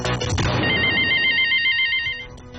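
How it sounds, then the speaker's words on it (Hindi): A telephone rings for a caller on a live Hindi stock-market hotline show, a loud bright electronic ring tone sounding close and steady for about two seconds before fading, with no talk over it. "अब बात करते हैं योगेश से जो पुणे से हमें फोन कर रहे हैं।"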